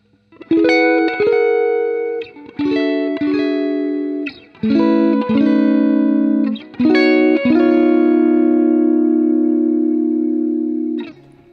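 An electric guitar strums a sequence of sustained reharmonized chords with effects, each ringing out before the next change, loud and close with no talking.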